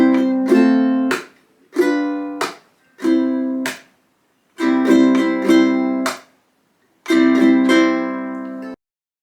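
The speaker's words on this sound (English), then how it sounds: "hit your instrument and do it with your nails touching." Ukulele playing a blues chord progression with a chuck strum, the nails striking the strings: five or six separate bright strummed chords, each ringing briefly before being choked off into silence, loud and close with no voice.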